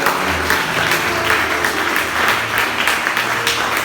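Church congregation applauding during a French-language sermon, a dense, steady burst of many hands clapping that fills the room loudly and evenly for several seconds.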